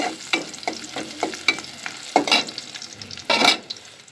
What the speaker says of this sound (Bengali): তেল গরম হয়ে গেলে আমি এখানে একটা পেঁয়াজ দিয়ে দিচ্ছি, সাথে কুচি করা রসুনগুলোও দিয়ে দিচ্ছি। হালকা হালকা ভেজে নিব।